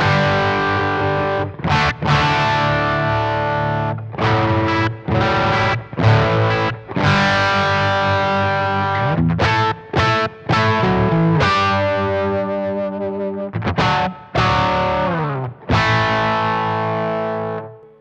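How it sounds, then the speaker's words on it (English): Electric guitar through the clean channel of a Blackstar JJN signature amp on its British boutique voicing, playing loud choppy chords and riffs with short pauses and a bright, slightly driven tone, close up and without talk. "Second voicing on the clean channel gives us a little more of a British boutique sound"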